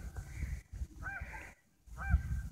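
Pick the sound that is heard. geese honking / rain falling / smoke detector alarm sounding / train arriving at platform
geese honking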